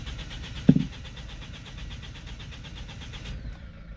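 A Citroën C4 1.6 HDi diesel engine is cranked but fails to start: one sharp clunk near the start, then an even, rhythmic starter churn for about three seconds that cuts off abruptly.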